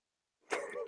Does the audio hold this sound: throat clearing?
yes